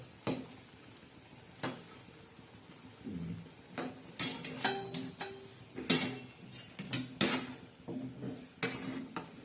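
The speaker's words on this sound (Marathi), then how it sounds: "आता आपण ही भाजी हलवून घेणार आहोत" Sev curry being stirred in a boiling pot, with a spoon scraping and clinking against the metal in irregular bursts over a low bubbling simmer, moderately close.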